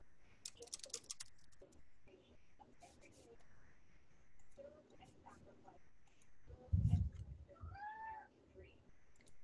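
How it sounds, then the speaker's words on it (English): A cat meows faintly in a room where someone is drawing and painting, its cries mixed with keyboard clicks and a person speaking. "my cat is constantly complaining today"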